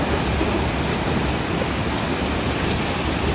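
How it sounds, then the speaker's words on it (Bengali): Roadside waterfall in the monsoon along the route from Kolkata to Siliguri, water pouring down from above in a steady, loud, broadband rush with no breaks, close by and alone. "পথে যেতে যেতে বন্ধুরা আর একটা ওয়াটারফল পেলাম"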